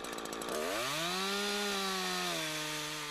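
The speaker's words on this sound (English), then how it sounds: "Now it's time for the felling cut." A Husqvarna chainsaw bites into wood during the felling cut, its engine rising from idle into a loud, sustained high-revving whine that drops slightly in pitch as the chain bogs into the cut.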